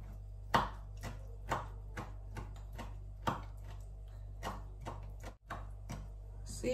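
A knife chopping ingredients into small pieces on a board, a series of quiet, evenly spaced taps at roughly one per second, close and soft.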